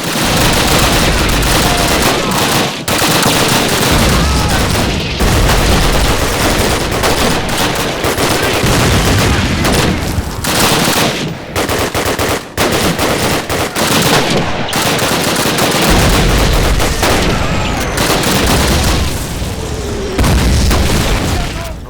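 Call of Duty battle in a Warsaw railyard: rapid machine-gun bursts and booming explosions pound almost continuously, loud and dense, with brief lulls between volleys and a voice faintly underneath.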